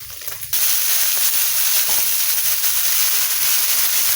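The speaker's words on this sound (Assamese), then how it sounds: "এতিয়া ইয়াত দিম মই কাটি থোৱা এইখিনি কচুলতি" Chopped taro stolons dropped into a hot frying pan with oil, a quiet moment followed by a sudden surge into loud, continuous close-up sizzling and crackling.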